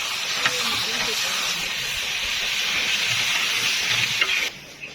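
Ground chili paste frying in a large cooking pot for degi beef korma, giving a loud, steady hiss and sizzle that runs almost the whole time before dropping away near the end.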